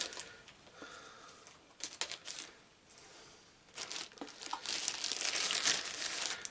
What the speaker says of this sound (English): I might need some scissors for this.